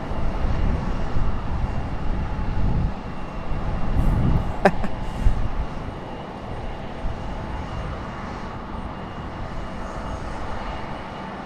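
A Breeze Airways airliner at Raleigh-Durham International Airport gives off a loud, broad engine roar that swells early, then eases into a steadier, fainter rumble.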